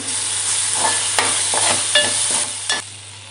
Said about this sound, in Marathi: आपल्याला वाटण छान असं परतून घ्यायचं आहे